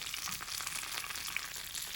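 Garlic and curry leaves frying in a hot tempering for buttermilk rasam, giving a steady, close, continuous crackling sizzle with no voices.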